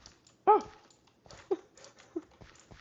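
A pug dog gives one sharp whining yip up close, then two softer whimpers spaced about a second apart, over quiet background with faint rustling.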